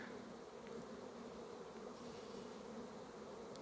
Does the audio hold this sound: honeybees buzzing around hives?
yes